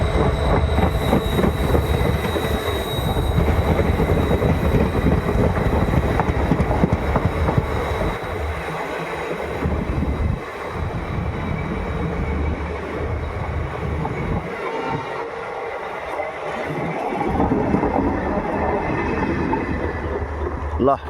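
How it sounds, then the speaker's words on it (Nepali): A train passing along a railway line outdoors, a loud continuous rumble and rush that holds steady for the whole stretch, with a person talking over it. "ट्रेन पनि आउँदैछ, इस ट्रेन आउँदैछ है।"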